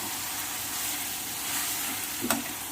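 About three-quarters of a kilo of chicken sautés in a pan for Chettinad gravy, giving a constant, even frying hiss with one brief clink near the end and no voices.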